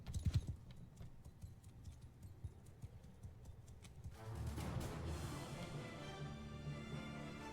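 Rhythmic hoofbeats clip-clop in a steady run in Mount & Blade II: Bannerlord, growing into a denser rumble of many horses charging with a continuous roar underneath in the second half.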